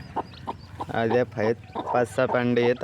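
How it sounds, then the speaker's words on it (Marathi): A hen with her newly hatched chicks clucks and peeps in short repeated calls, close and fairly loud, under a man's speech. "चिवचिवाट चालू आहे"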